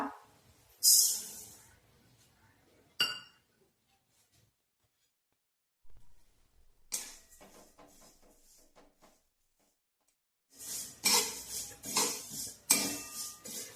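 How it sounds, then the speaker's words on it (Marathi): A spatula stirs and scrapes sesame seeds as they dry-roast in a kadai over low heat, giving intermittent bursts of gritty scraping and light clinks separated by quiet gaps. "कढईमध्ये तीळ भाजून घेऊया।"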